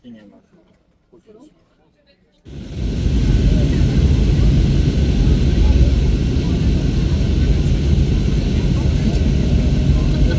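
Inside an airplane cabin before takeoff on a flight to Kraków, a few soft voices and faint sounds give way to a sudden loud, steady engine roar that drones on evenly.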